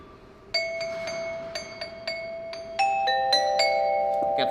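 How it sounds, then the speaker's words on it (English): A doorbell chimes a series of bright, ringing tones in quick succession, clear and close, each note sustaining and overlapping the next in a quiet room. "Got the doorbell."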